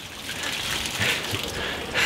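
Dirty first-flush water from a rain catchment setup sprays out of a hose onto a yard, a steady close hiss and splatter that swells slightly near the end.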